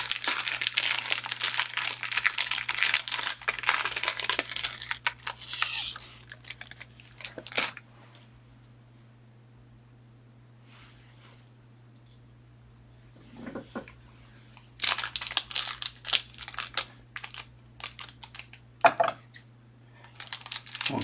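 Plastic packaging on sports trading cards crinkles and crackles up close with scissor snips and rustling handling noises, broken by a quiet pause midway before the rustling resumes.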